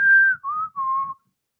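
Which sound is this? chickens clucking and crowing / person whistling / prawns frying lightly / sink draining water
person whistling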